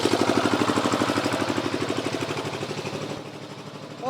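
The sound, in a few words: generator running at a market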